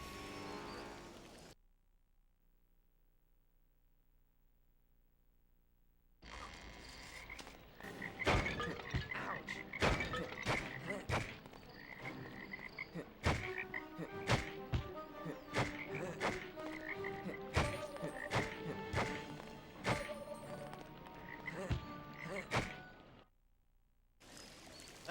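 Toads croaking in Lemony Snicket's A Series of Unfortunate Events on PS2: a dense chorus of overlapping croaks and clicks starting after a quiet opening stretch, close and fairly loud, then cutting out near the end.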